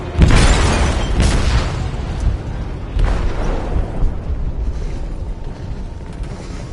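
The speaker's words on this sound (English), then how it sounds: "They detonated an explosive in the hold." An explosive detonating in a ship's hold in a video game, a loud close boom followed by a heavy rumbling roar with secondary blasts, all fading slowly.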